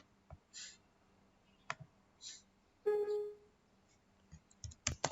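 A computer mouse clicking while network adapter settings are opened, with a few sparse sharp clicks and small taps, close, in a quiet room with no speech.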